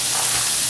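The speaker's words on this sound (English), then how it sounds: "we're just gonna saute it, fry it a little bit to it could suck out some of that water in the meat" Meat sautéing in a hot pan for taco filling, giving a steady close sizzle and hiss that runs unbroken through the short moment, with no talking over it.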